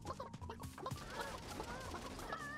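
Rapid, slightly synthetic chicken clucks repeat over a busy Realm Royale game soundscape, with bright tonal effects and a low steady background hum.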